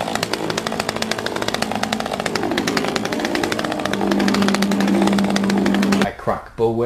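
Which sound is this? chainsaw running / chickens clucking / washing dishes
chainsaw running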